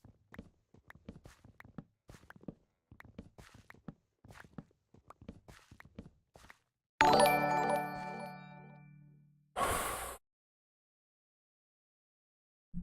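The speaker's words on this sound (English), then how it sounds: "I have the notification sounds up way too loud" Stream follow notification chime played much too loud, a sudden bright ringing jingle with a sustained tone, then a second short burst, after quiet clicking and footsteps from a Minecraft game.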